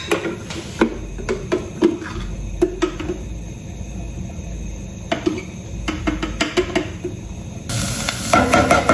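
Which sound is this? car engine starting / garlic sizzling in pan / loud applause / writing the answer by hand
garlic sizzling in pan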